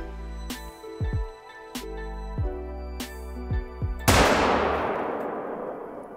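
A 7mm hunting rifle fires in the hunting game The Hunter: Call of the Wild on the Vurhonga Savanna, one loud sharp report followed by a long fading echo, after a series of softer clicks and mechanical handling sounds.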